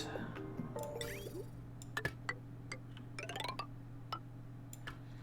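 A water pump runs in the video game Oxygen Not Included, with a steady low hum under faint dripping and ticking blips, quiet and continuous, with no talking.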